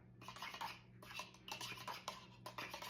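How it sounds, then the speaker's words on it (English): A spoon stirs a Coca-Cola cake mixture in a bowl close by, giving faint, repeated scraping and clinking strokes in short bursts. No one speaks. "and then I'm gonna stir that up."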